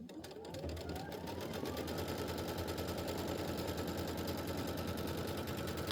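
Kimberbell quilt embroidery sewing machine stitching a pieced block, a rapid, even mechanical chatter that spins up in the first second and then runs steady and loud without pause.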